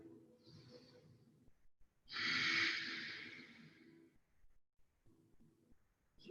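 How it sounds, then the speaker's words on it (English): Deep yogic breathing in a heated yoga class: a long, strong exhale in the middle, framed by quieter breaths and a soft instructor's voice, close and intimate. "About 3 more breaths right here."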